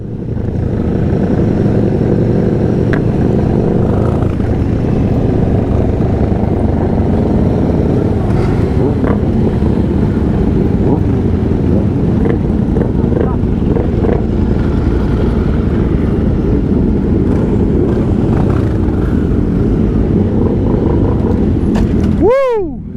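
A procession of motorcycles riding in two lines at a ceremony for a retired police officer, making a loud, unbroken engine rumble that holds steady throughout, with a brief rising whine at the very end.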